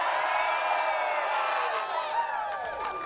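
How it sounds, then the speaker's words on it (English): A sold-out wrestling crowd cheering at a live event, a dense, loud roar of shouts and whoops that holds steady, then tapers slightly near the end. "Let me hear what a sold-out crowd sounds like."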